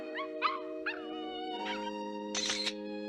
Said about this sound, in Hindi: मॉम, अभी मैंने एक डॉग की आवाज सुनी।